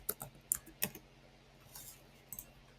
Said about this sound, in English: just type in what you want